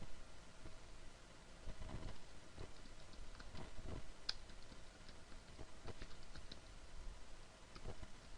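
Keys clatter steadily on a computer keyboard as a database query is typed, a run of quiet irregular clicks and taps at close range with a faint fan hum underneath and no talking.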